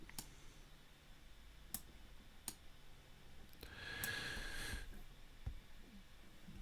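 A few sharp, isolated computer mouse clicks spaced a second or so apart, close and fairly quiet over faint room hiss, with a brief soft rustling noise midway.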